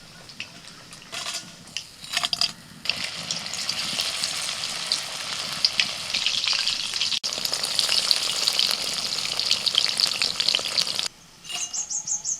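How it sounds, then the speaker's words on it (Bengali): Mushrooms fry in hot oil in a wok, a steady loud sizzle with stirring scrapes, a brief pause near the end before the sizzling resumes, and faint birds in the background. "মাশরুম ভালো করে ভেজে তুলে নিচ্ছি।"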